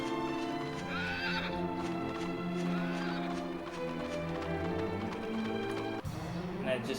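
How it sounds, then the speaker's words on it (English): Horse neighing and whinnying with clip-clop hooves in the video game Dragon Quest VIII, set over steady game music with a sharp cut near the end; the neighs stand out clearly against the looping background score. "Oh, look, the horse."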